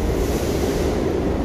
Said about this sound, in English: so I'm on a train, right? I actually got on the local train.